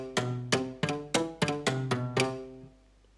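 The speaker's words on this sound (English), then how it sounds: "The next we have our spot mic, which is just bone dry right in front of the instruments." Bartok pizzicato strings recorded on a dry, close spot microphone snap out eight sharp plucked notes in an even rhythm, each decaying quickly, the last fading into near silence.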